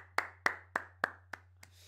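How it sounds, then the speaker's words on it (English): A few hands clapping at a WWE NXT live stream reaction: six sharp, evenly spaced claps that fade in loudness, over a low steady hum. "You're getting a round of applause, dude."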